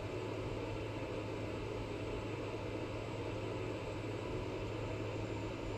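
The turboprop engine of a Carenado PC-12 in the X-Plane 11 flight simulator, throttled back, gives a steady, fairly quiet drone and whoosh that stays even throughout with no talk.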